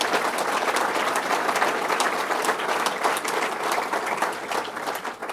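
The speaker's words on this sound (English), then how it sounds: "Let's give them one more round of applause" Audience at a Bassmaster fishing event claps in a steady, dense round of applause, fairly close and continuous throughout.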